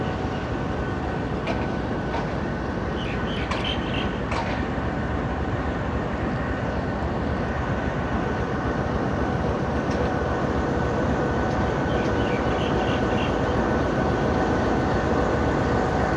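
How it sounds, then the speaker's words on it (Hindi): Locomotive 4566 approaching to couple onto the Ghouri Express passenger train on the Faisalabad to Lahore line in the evening, a loud continuous rail rumble and roar that holds steady throughout with faint higher squeals. "4566 ये आ रहा है अटैच होने गौरी एक्सप्रेस के साथ"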